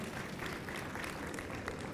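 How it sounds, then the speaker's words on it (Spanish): Listeners at a science lecture event applaud a visiting speaker with faint, even, continuous clapping that sounds distant and holds steady throughout. "Les pido un aplauso para él."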